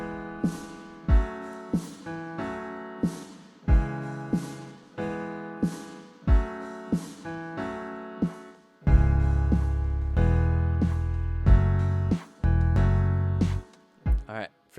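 Guitar playing a song's bridge, a rhythmic sequence of strummed and picked chords with sharp attacks, growing fuller and denser in the second half with a heavier low end, without talk.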